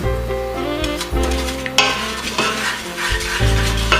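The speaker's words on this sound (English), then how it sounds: "Mix that shit up." A spoon stirs mulled wine in a pot, giving a run of scraping clatters and knocks over a steady tonal background, fairly loud and close.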